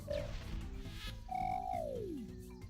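A frog croaks in the video game RuneScape: a short tonal call, then a longer whistling croak that slides downward in pitch, heard against a low game background hum.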